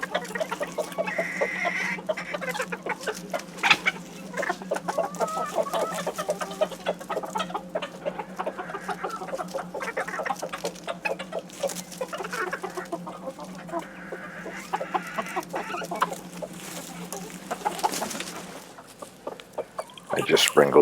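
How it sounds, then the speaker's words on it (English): Black barnyard bantam chickens, a mottled cochin and black silkie rooster cross, cluck and chatter continuously close by while scratching at scattered feed outdoors, with busy overlapping calls and a low background hum throughout. "those are mostly my black barnyard bantams, cross between a mottled cochin and a black silky rooster."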